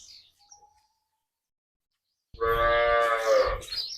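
Cattle at a village dairy in Punjab: after a near-silent stretch, a single loud, close moo rings out and holds for over a second, with faint birds chirping before it.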